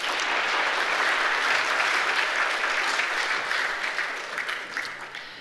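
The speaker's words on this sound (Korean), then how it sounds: "박수로 격려하겠습니다" A church congregation applauds to encourage newly appointed group leaders during a worship service, a loud, sustained roar of many hands clapping that tapers off slightly at the end, with no talk over it.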